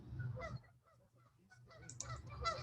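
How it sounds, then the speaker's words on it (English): Canada geese honking at a marshland, several loud nasal calls in quick irregular bursts, fairly close, with no talk over them. "Those sound like Canada geese."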